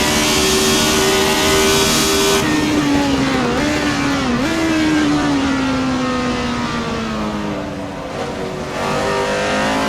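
In the Assetto Corsa driving game, a 1976 McLaren M23 Formula 1 car's V8 screams loud and close at high revs, its pitch dipping briefly at gear shifts, with no talk.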